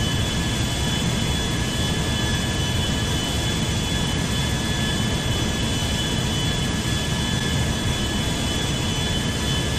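A US Airways Airbus A320-214's jet engines roar at takeoff power in a GTA V simulation, a dense, constant broadband rush with a faint high whine running through it, loud and steady, no voices.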